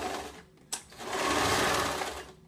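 A sewing machine runs briefly, making a couple of stitches with a steady mechanical whir after a short click, close and fairly quiet.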